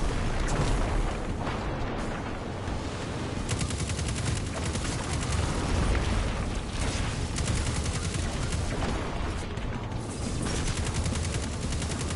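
Bombs released by a Titan in Destiny 2 burst in a dense, continuous barrage of loud, close explosions and crackling gunfire, the roar unbroken from start to finish with no talking.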